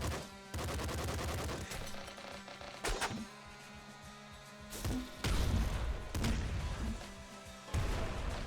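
Rapid SMG gunfire bursts in the video game Nuclear Throne, loud and close, with repeated volleys, impact thuds and crashes spread across several seconds.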